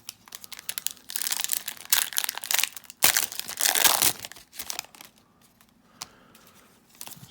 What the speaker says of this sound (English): I'll basically unwrap each stack and then we'll go through it.